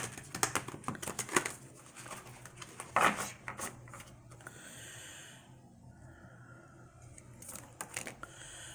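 Tarot cards are shuffled quietly by hand in bursts of soft riffling and flicking during a reading, close and faint, with quieter pauses between shuffles.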